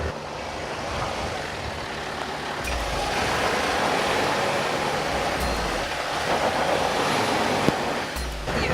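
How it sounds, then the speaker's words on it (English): A Mahindra Thar climbing a steep slope in 2H with wheels spinning, a sustained loud rumbling engine and churning roar with grinding surges, close and continuous. "You can hear the wheels spinning."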